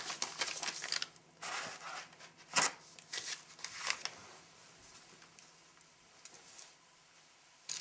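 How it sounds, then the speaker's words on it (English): Crinkly plastic and foil rustling as an MRE clam chowder pouch is slid into a flameless ration heater sleeve, a run of close scratchy shuffles and sharp crackles with a few pauses. "I'll pull that heating element out again so I can put the clam chowder envelope in there"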